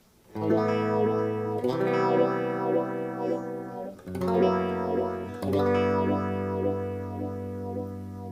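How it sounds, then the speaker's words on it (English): Distorted electric guitar chords ring out in sustained strums, swept by a basic phaser from an Ibanez KAOS pad that makes the tone whoosh and shift, with no talking. "And just a nice basic phaser."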